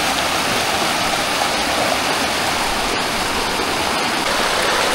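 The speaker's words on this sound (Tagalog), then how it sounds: "Kakatuwa po pakinggan yung lagaslas ng tubig," A flowing stream gurgles and churns in a constant, full wash of water noise, close by and uninterrupted.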